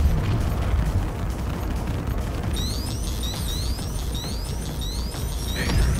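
Torpedoes and missiles pounding an Idris capital ship in a space combat game: a dense, loud, continuous rumble of explosions, with repeated rising electronic tones sweeping over the barrage in the second half.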